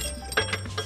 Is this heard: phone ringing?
yes